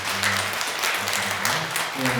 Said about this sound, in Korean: 어쨌든 박수로 격려하겠습니다